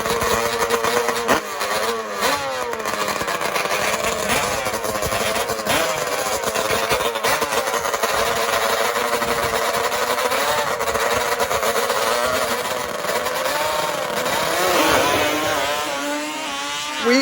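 Drag racing quads launch side by side off the starting line, engines screaming loudly and continuously at high revs with rising pitch sweeps as they accelerate bar to bar down the track.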